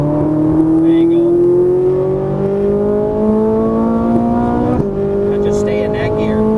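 A Ferrari 458 Italia engine pulls hard on a race track, a loud rising whine climbing steadily through the revs, a brief dip at a gear change, then rising again, heard from inside the car with a voice speaking over it.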